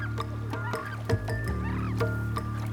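A giant coot, a large waterbird of the high-plateau waters of Chile's Atacama region, gives repeated clucking, honking calls over a steady low background hum.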